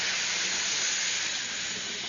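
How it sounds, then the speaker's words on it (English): Steam hisses steadily from a steam cabinet in a continuous bright, airy rush that stays even throughout, with no voices over it. "Turn up the steam, will you?"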